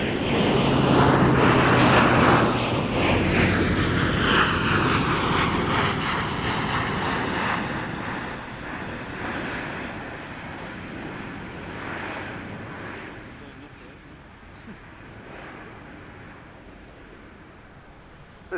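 An Airbus military transport aircraft with fly-by-wire controls passes at an air show, a loud broad engine roar that sweeps in close and then slowly fades as it moves away.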